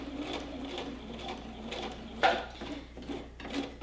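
Sewing machine running steadily through a long basting stitch, a soft, even mechanical whir with light rhythmic ticking and one brief louder clack partway through.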